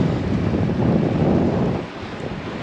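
Wind gusts roar across a microphone on a mountain cycling route in Corsica, a steady low rumble that eases off toward the end, with no talking.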